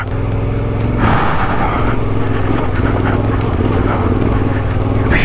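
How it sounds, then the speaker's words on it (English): A motorcycle chugging in first gear up a steep rocky trail, its engine a loud low rumbling throb close by, steady with a rise in effort after the first second and faint clatter over the rough ground. "Which is why I'm in first gear, just chugging along."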